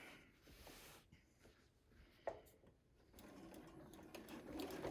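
Sewing machine stitching in free motion quilting, a steady mechanical whir that starts slow and gradually builds speed, close and moderately loud, with a brief sharp click partway through and no talking.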